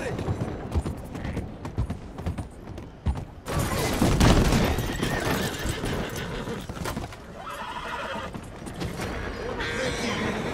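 Horses whinny and neigh in Red Dead Redemption 2, with hoof clip-clop, gear rattle and a loud burst of action mid-clip, all close and busy throughout.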